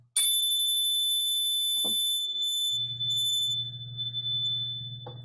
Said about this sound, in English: listen to the sound of the chime